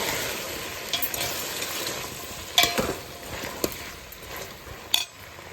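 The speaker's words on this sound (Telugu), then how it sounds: "మనము కట్ చేసుకుని కూరగాయ ముక్కలన్నీ వేసుకోవాలి. బెండకాయలు, ములక్కాయలు, వంకాయలు, చిలకడదుంప, దోసకాయ, క్యారెట్, బీన్స్ ఇవన్నీ వేసుకొని కలుపుకోవాలి." Chopped okra, drumsticks, brinjal, sweet potato, cucumber, carrot and beans are stirred into hot oil for sambar. A steady sizzle runs under irregular metallic clinks and scrapes of a spoon against the pot.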